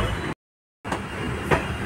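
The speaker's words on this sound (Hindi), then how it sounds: "अब ट्रेन चल दी है" A passenger train rolls along near Delhi with a rumbling ride noise, a brief full dropout, then a single louder clack.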